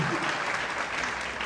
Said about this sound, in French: applaudissez le fil.